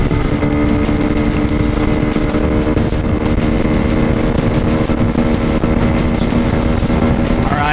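Lifan KP Mini 150cc motorcycle with a modified intake and 34T sprocket, its engine revving hard and droning loud and close as it accelerates through the gears in a speed run, steady buzzing tone with no talking.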